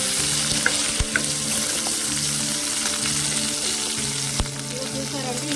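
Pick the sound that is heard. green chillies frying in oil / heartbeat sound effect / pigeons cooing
green chillies frying in oil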